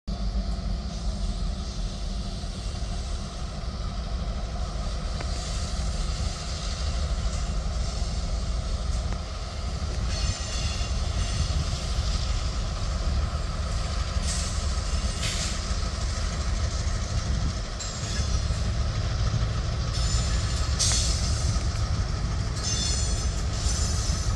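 A CN freight train led by two GP38 diesel locomotives rumbles past steadily and loudly with a heavy low engine drone, rolling wheel noise and occasional metallic squeals, continuing for a long stretch.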